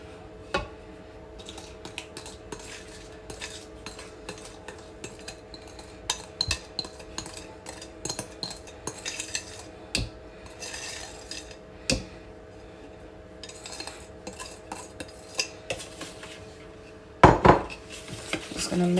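Brownie batter with butter, sugar and eggs is mixed in a bowl, a spoon or spatula scraping and clicking against the sides in irregular close-up strokes, with a louder clatter near the end.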